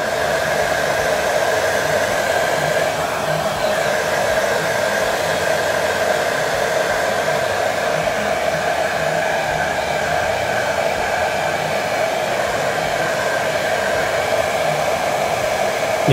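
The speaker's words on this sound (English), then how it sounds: "I am using hair dryer to dry the paint" A hair dryer drying paint on a BMP-1 scale model blows with a constant, even whirring hum, close and loud, running without a break the whole time.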